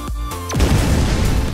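A grenade goes off in the artillery game ShellShock Live: a couple of quick descending whistles and pops, then a loud, crackling blast that rumbles on to the end.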